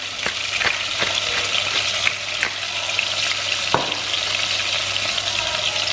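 Seasoned chicken pieces for coq au vin sear in a hot pan with a continuous close sizzle, punctuated by a few soft pops and utensil taps, and no voice is heard.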